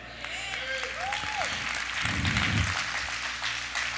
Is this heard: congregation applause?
yes